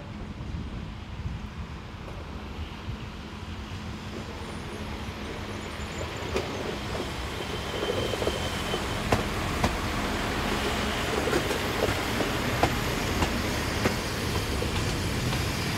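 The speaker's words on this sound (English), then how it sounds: "unit number SA137001 arriving at Żukowo-Warszawy with a service from Kosz-Rzeszów" PKP class SA137 railcar, unit SA137001, pulling in at Żukowo-Warszawy station on a service from Kosz-Rzeszów: a steady rumbling roll that builds slightly in loudness as it nears, with wind buffeting the microphone.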